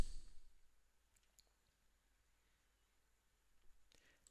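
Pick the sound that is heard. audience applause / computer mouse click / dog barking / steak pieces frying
computer mouse click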